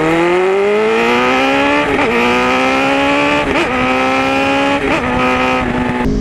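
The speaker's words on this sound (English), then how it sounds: "Sounds like a MotoGP bike, baby. I love that V4 sound." A loud V4 motorcycle engine revs hard through an aftermarket exhaust and climbs in pitch, with several brief dips between gear shifts, its exhaust roaring close by.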